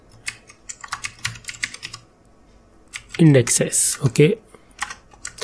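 Typing on a computer keyboard while entering Ubuntu Linux server commands: scattered quick key clicks in short bursts, close and crisp, with someone speaking briefly in the middle.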